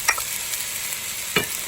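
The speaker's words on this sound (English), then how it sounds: "So now we're going to add our ginger and garlic." Ginger and garlic sizzle in a hot pan as they are stir-fried for fried rice, a steady frying hiss broken by a couple of sharp scraping stirs.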